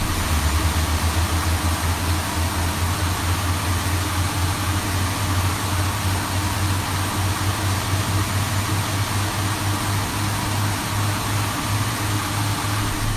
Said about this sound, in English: I'm going to show you how complicated a cross bleed engine start is in the 350